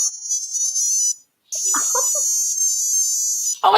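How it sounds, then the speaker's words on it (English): A watch alarm beeps in a continuous high, electronic pattern, loud and close, stopping briefly mid-way before resuming, with a short burst of talking underneath. "It doesn't make that noise every hour at your office, does it? No. It's just a beep."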